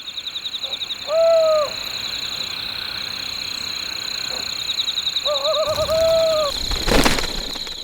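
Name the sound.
Ural owl pair calling at night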